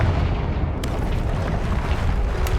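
A Confringo blasting spell explodes in the Hogwarts Legacy video game: a loud, heavy boom with a deep rumbling low end that rolls on, with a sharp crack near the start.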